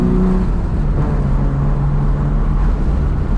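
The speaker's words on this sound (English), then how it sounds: "Wow! That's a proper muscle car. Listen to that noise." A 1979 Jaguar XJ-S with manual five-speed conversion, engine droning loud and steady, with a low, rising growl suggesting acceleration; no voices.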